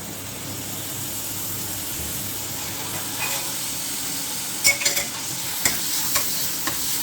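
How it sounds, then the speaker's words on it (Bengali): Onions frying in a little oil in a pan, with garlic and a pinch of salt added, give a steady low sizzle throughout, while a few brief stirring scrapes and clinks rise above it near the end. No one speaks. "পেঁয়াজটা যেন তাড়াতাড়ি ভাজা হয়।"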